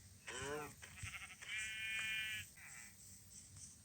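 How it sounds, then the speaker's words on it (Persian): Several sheep bleats from the Minecraft video game, wavering harmonic calls in quick succession, the first strong and the later ones slightly softer, heard alone without talk. "من یه دونه گوسفند دیگه پیدا کنم."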